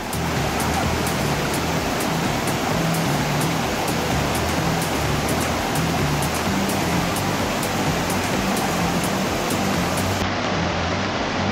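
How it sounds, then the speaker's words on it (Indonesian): A waterfall in Sumba roars as a steady, dense wash of falling water, loud and close, with no voices over it. "Dan ini air terjunnya."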